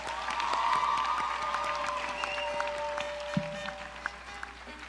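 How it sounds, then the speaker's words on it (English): An audience claps steadily but at moderate level after a vocal performance at a Bharatanatyam arangetram, with a sustained tone and faint background murmur running under the applause. "Can we please get another round of applause for that?"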